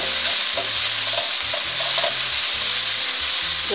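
Vegetables with thyme frying in a pan for a vegetarian fried yuca and spinach dish, a loud continuous close sizzle with rhythmic scraping strokes of stirring.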